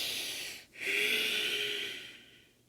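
Slow, steady breathing during a seated chair yoga pose with the chin dropped toward the chest, a soft airy inhale or exhale close by, briefly pausing before one long drawn-out breath that fades away.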